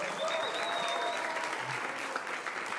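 Steady, dense applause from a concert audience fills the whole stretch, loud and continuous with no pauses.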